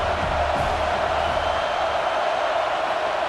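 A simulated stadium crowd in College Football 26 during a Nevada vs. Penn State game keeps up a loud, continuous, dense roar with no clear breaks.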